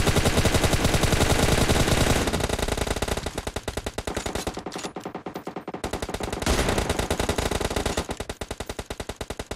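Rapid, continuous automatic gunfire in PUBG Mobile crackles loudly and densely throughout, easing slightly in the middle before the bursts pick up again.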